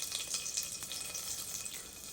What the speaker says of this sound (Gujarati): તેલમાં હિંગનો વઘાર કરી લેશું